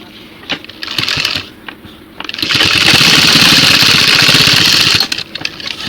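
An electric sewing machine runs in bursts while stitching a denim jacket: short starts and stops, then a sustained whirring run of about three seconds, close and fairly loud, with no talk.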